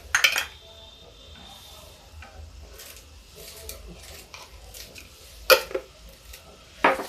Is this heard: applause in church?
no